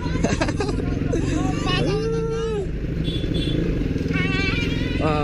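A dirt bike engine drones loudly and constantly at close range while being ridden, with excited voices chattering over it throughout.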